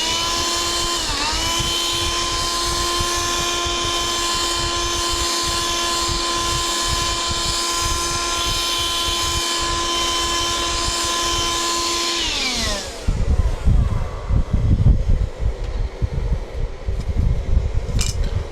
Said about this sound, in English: And again with a dust buster.